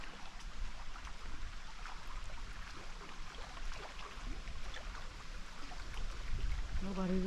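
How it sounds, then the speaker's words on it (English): Loud, steady rushing water from a stream near a lake in the Maine woods, a continuous broadband wash close by that holds at a constant level throughout. "but the water's too loud"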